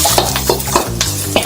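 Ginger and garlic sizzling with onions in a hot pan for lo mein, loud close frying hiss broken by rhythmic stirring scrapes, no talking.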